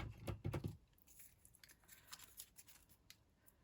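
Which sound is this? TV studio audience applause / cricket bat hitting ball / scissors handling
scissors handling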